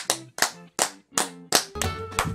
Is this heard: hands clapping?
yes